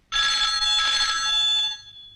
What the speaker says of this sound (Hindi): देखना तो किसका फोन है